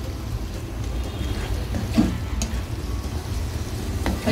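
Spiced chicken mince frying in a pan, a steady low sizzle with a few soft clinks and stirring scrapes, close and moderately loud with no talking.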